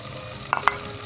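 Chicken, green chilies, tomatoes and spices fry in a pan with a continuous low sizzle, marked by a couple of quick sharp clinks of a utensil midway through the short stretch.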